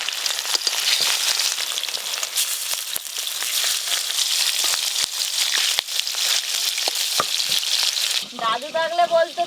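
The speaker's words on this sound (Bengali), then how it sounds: "মাছগুলো ভেজে নেবো, তার জন্য কড়াই সর্ষের তেল দিয়ে দেবো" Hilsa fish frying in mustard oil in a wok gives a loud, dense, continuous crackling sizzle heard close up with scattered sharper pops, before a voice briefly cuts in at the very end.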